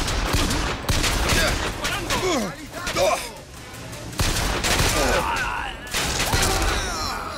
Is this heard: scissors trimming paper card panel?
no